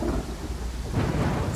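Rain and rolling thunder in the Pathfinder: Kingmaker role-playing game, a steady wash of rainfall with a deeper rumble swelling near the end, with no voices over it.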